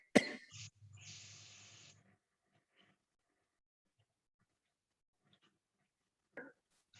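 A single sharp cough at the start, followed by a brief rasping breath, then near silence and another short throat sound at the end.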